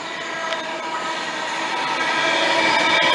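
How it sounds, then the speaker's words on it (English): A Virgin Class 390 Pendolino, on a London Euston to Edinburgh service via Preston, arrives at platform 2 of Sandwell & Dudley station. Its loud, steady rolling roar builds slightly as it draws in close. "about to arrive into platform number 2, we have a Virgin train service from London Euston to Edinburgh via Preston"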